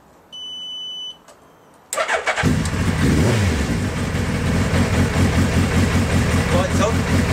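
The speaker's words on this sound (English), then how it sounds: "the main lights I just want to test that while the bike's running" A motorcycle engine cranks and catches at about two seconds, then runs at a steady, loud idle close by after a brief electronic beep. A voice talks under the running engine.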